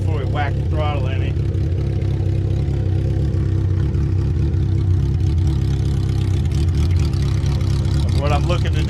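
A Suzuki GSX-R 1000 drag bike engine idles steadily with a loud, continuous low rumble that stays close and even throughout, with brief faint vocal sounds at the start and end.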